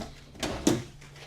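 A kitchen drawer in a 2026 Prime Time LaCrosse 3411RK travel trailer gives a quick soft slide followed by a sharper knock as it shuts, one brief close action in a quiet room.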